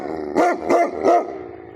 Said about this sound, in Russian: Почему ты гавкаешь?